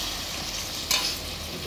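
A spoon stirs mutton curry as it fries in a pot, producing a continuous close sizzle with one sharp scrape of the utensil about halfway through.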